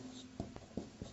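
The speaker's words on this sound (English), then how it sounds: "I will write down here." Writing on a board during a lecture, a few short faint scratchy strokes in a quiet room, with a low voice murmuring briefly at the start.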